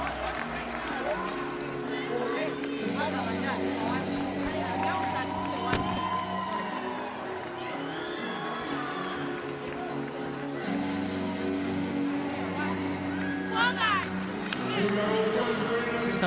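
A netball crowd at the Netball World Cup in Sydney Olympic Park, Sri Lanka versus Malawi, keeps up a continuous murmur with scattered cheers and shouts, heard beneath a commentator talking.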